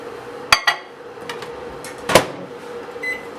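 A kitchen microwave oven melting butter for doughnut batter: a door clunk and beep, then a low steady hum, with a couple of sharp clicks and clatters nearby.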